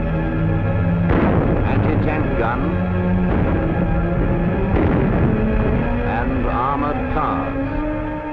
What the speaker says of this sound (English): Bofors gun